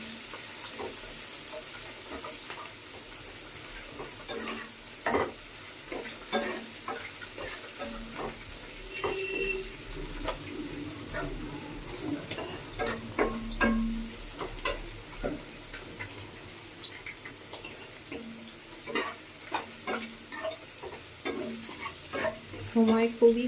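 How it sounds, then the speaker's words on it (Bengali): Onion and fish frying in mustard oil on a home stove, with a steady close sizzle and repeated sharp scrapes and taps of a stirring utensil against the pan, without any voices. "একদিকে মাছ ভাজা বসিয়ে দিয়েছি, আর একদিকে সর্ষের তেল দিয়েছি, দিয়ে পেঁয়াজ দিয়ে দিচ্ছি।"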